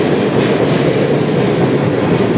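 Freight train on the High Line rail line heading toward Whitefish, a close, loud, continuous rumble of rolling cars and wheels with steady clatter throughout.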